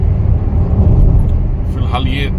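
Car driving on a wet highway from Punjab to Delhi, a heavy low road rumble heard from inside the cabin under someone talking, with a brief higher clink near the end.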